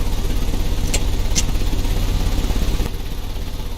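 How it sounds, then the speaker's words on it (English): Engine idling steadily in the Sherlock Holmes: Crimes and Punishments game, a continuous low rumble with a rhythmic pulse, two brief sharp clicks near the start and a slight drop in level toward the end. "The engine has started."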